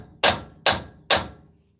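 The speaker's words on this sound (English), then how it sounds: "we're gonna get a hammer and give it a little tap to make sure it's not seized" Three sharp hammer taps on the axle nut of a 2014 Dodge Ram 1500, struck steadily about half a second apart, each a close, ringing metallic hit that decays quickly, with no talking.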